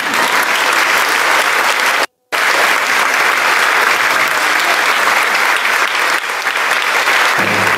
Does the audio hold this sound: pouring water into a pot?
no